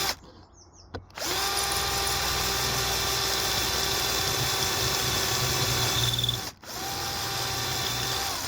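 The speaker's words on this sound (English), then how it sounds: "But I'll drill some new holes here and here." Power drill boring holes while a campervan's pull-out countertop is being built, a loud steady whine that runs for several seconds, stops briefly, then starts up again.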